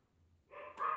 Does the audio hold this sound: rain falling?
no